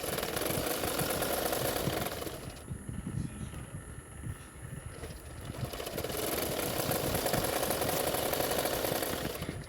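A sewing machine stitching a blouse, running in a steady fast whirring drone for a couple of seconds, pausing briefly to a quieter hum, then starting up again, close and continuous.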